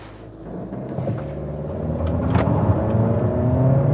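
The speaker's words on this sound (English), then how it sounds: "we're going to start off with the launch test. It's in sport mode." A 2022 Honda Accord Touring sedan with a 1.5-litre turbo and CVT launching hard in sport mode, its engine rumble swelling steadily as it accelerates, heard from inside the cabin with no talk.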